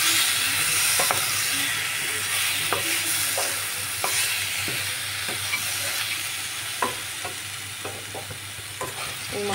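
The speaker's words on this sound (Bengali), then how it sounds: "এই মশলাটাকে ভালো করে কষিয়ে নিচ্ছি" Spice paste fries in a pan while being stirred, a continuous close hiss and sizzle broken by regular scraping and tapping of the spatula, gradually easing slightly in loudness; no voices.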